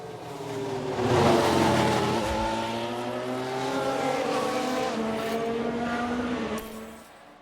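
Formula 1 race cars in the F1 Manager 2022 game, a McLaren overtaking, loud high-revving engines rising and holding pitch as the cars pass close, with no talking.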